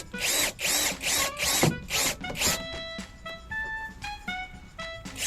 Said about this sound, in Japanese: 天井の板が 3mm と薄いので割れないように気をつけながらビスを打ち